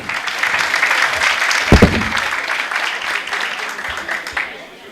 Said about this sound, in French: je vous prie d'applaudir très fort nos intervenants du premier panel